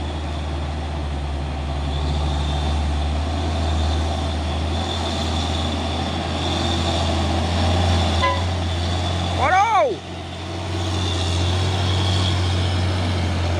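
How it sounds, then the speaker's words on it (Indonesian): Hino truck arriving, with a heavy low engine rumble that swells and holds alongside a horn toot near the middle and a voice talking over it. "Masuk lagi satu nih truk Hino Jember ini"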